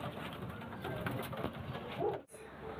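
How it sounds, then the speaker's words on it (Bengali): Pigeons kept as a hobby flock coo steadily at close range, a low continuous murmuring with a brief dropout near the end. "দাদার খুবই শখের পায়রা, বিক্রি করে দিচ্ছে"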